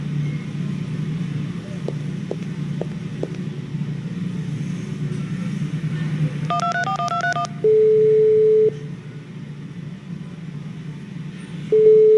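A telephone being dialed in the adventure game 15 Days: a few soft clicks, then a quick run of dial tones, followed by two steady ringing tones over a low room hum.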